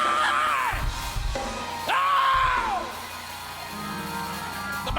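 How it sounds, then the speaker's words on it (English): Church congregation in a worship service letting out loud screams and whoops, with long rising and falling yelling voices in two surging waves followed by a quieter crowd murmur. "If y'all don't mind giving God a scream"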